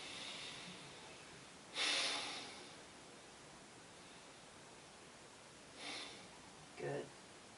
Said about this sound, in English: you can give a couple good exhales there